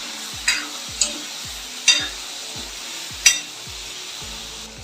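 Brinjal sautés in a pan for a spicy kara kuzhambu curry, a soft steady sizzle broken by sharp scrapes of a spoon stirring it every second or so.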